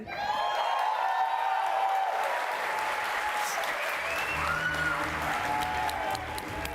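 Audience applause and cheering fill a live anniversary stream event for Dead by Daylight, loud and sustained with scattered whoops, while a presenter's voice talks over the crowd.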